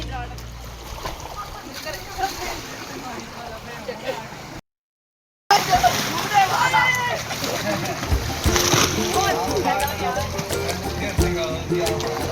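Water splashing and sloshing as someone wades through knee-deep rainwater in a Punjab village, with people talking over the churning, broken by a short silent gap.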